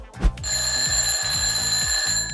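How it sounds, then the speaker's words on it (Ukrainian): An alarm clock rings loudly and steadily, a rapid repeating electronic ring heard up close with no voices. "У нас будильник, який дзвонить."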